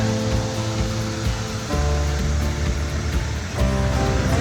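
Creek water rushing through a park in Maggie Valley, North Carolina, a loud, steady broadband wash of flowing water with low rumble underneath and no voices.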